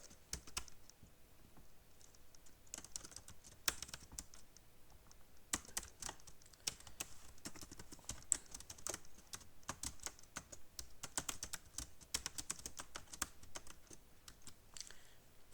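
An address being typed on a computer keyboard, with a steady run of close, fairly quiet key taps continuing throughout with no talk.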